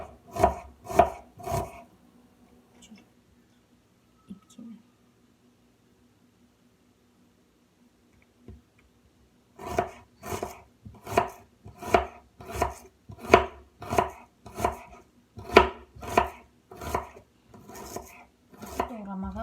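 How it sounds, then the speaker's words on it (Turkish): A knife slices onions into thin half-moons on a cutting board in quick regular strokes, stops for several seconds, then resumes in a rapid even rhythm. Close and clear. "soğanlarımızı nazik ve aypara şəklində doğrayırıq"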